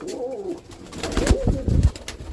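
Roller pigeon cocks coo in a loft, several low rolling coos overlapping one another at close range, moderately loud with no talking.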